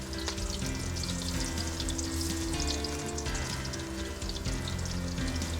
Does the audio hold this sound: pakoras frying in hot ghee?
yes